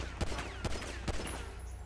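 Three sharp gunshots in GTA V Online crack out at an even pace, close and loud, over a steady low game rumble.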